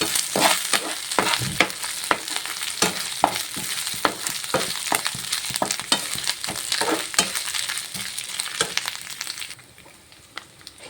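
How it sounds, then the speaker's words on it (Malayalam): Grated coconut is stirred and roasted in a pan for Kerala erissery. A spoon scrapes in steady repeated strokes over a faint dry sizzle, close and continuous, with no talk. "ഇനി നമുക്ക് നല്ലപോലെ ഒന്ന് ഇളക്കി നമ്മുടെ ഈ തേങ്ങ ഒന്ന് മൂപ്പിച്ചെടുക്കണം"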